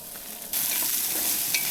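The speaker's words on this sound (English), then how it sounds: "gonna throw in our onions with our" Onions dropped into hot oil at a camp cookout for a Filipino dish: a quiet moment, then a sudden loud, steady sizzle that fills the rest of the short clip.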